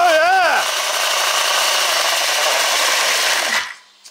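Electric motor and gears of a two-speed Axial RYFT RBX10 RC rock crawler in crawling gear: a close, loud whine swoops up and down in pitch, then settles into a steady grinding drone before cutting off abruptly.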